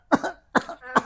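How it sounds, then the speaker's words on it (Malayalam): A small child with a slight cough gives three short, separate coughs in a quiet room during a playful doctor visit, each cough close and fairly soft. "ചെറിയ ചുമയുണ്ട് ഡോക്ടറെ."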